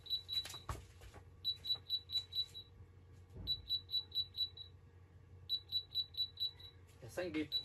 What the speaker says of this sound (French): Il y a 5 bips.